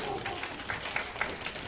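A snooker crowd at the Shanghai Masters 2013 quarter-final applauds in a soft, fairly distant patter of clapping that holds steady through the brief moment, faint under the hall ambience.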